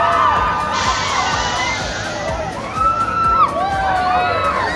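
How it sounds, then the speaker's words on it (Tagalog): A crowd of riders on a mall's sky attraction screams and cheers loudly, high-pitched shrieks and whoops rising and falling in waves, with children's voices prominent and the noise swelling near the end. "Palakas na palakas na rin yung hiyawan nila"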